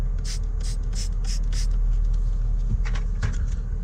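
Five quick spritzes of CarPro Perl from a spray bottle onto a towel during car detailing, evenly spaced hissing bursts up close, followed by softer rubbing and handling noises over a low background hum.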